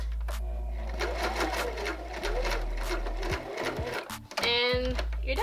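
A sewing machine stitches a headband onto a lace front wig in quick bursts of rapid mechanical whirring, close and loud, stopping and starting with short pauses.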